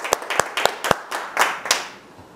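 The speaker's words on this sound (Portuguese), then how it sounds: "mais uma salva de palmas." A few scattered hand claps at a political speech event, sharp and separate rather than a full ovation, tapering off after about two seconds.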